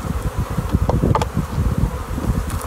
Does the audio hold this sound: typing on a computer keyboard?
no